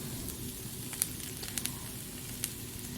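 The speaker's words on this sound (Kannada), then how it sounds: "ಇನ್ನು 2 ಮಿನಿಟ್ಸ್ ಫ್ರೈ ಮಾಡ್ಕೊಬೇಕು." Chili powder and cumin powder frying in a pan for tomato rice bath make a quiet, steady sizzle with a few sharp crackling pops scattered through it and no voices.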